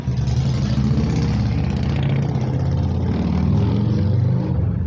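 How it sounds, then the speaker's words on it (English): A chopper motorcycle engine idles steadily with a deep, throbbing low rumble that holds at an even level throughout, fairly close and with no voices. "boys out here riding their choppers today."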